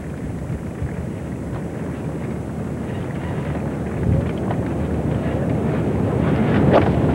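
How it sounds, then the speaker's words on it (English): Strong wind gusting across Royal Birkdale golf course, a continuous low buffeting rumble against the microphone that swells louder toward the end, with no voices. "The wind is very strong out of the left."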